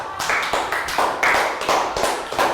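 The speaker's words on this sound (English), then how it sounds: "Round of applause for Pat." Classroom applause for a pupil named Pat during a Year 3 maths lesson, a steady burst of many hands clapping close by for about two and a half seconds.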